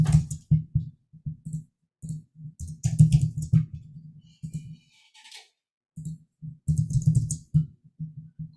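Computer keyboard typing close up, in bursts of rapid clicking keystrokes separated by short pauses, with no talk.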